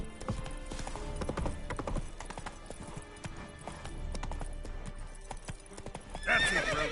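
Geralt's horse Roach trotting in The Witcher 3, crisp rhythmic hoofbeats close by with a whinny near the end, over a layered game soundscape.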